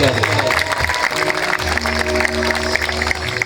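An audience claps for their parents at a Punjabi village fair in Libra, Khanna, marking the annual urs of Hazrat Baba Pir Bakhsh; dense, loud applause runs throughout with some crowd murmur and a faint tone beneath.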